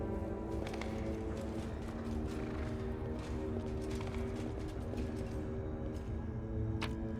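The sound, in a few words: horse hooves clopping in Pathfinder: Wrath of the Righteous video game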